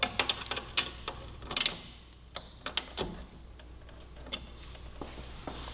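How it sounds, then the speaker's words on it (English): A wrench torquing the brake caliper bolts on a 2017 Yamaha R6 gives a close series of sharp, irregular metallic clicks and taps over a quiet background. "Now I'm going to get each of these caliper bolts torqued"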